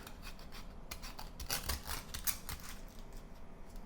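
Sharp knife slicing open a boiled salted egg through the shell, a quiet series of short scraping, rasping strokes close up, with no voices.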